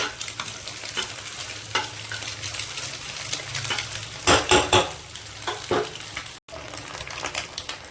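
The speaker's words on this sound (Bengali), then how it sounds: "একটু লাল লাল করে ভেজে নেব" Eggs fry in hot oil in a pan with a constant soft sizzle, while a utensil scrapes and stirs them in several louder clattering bursts.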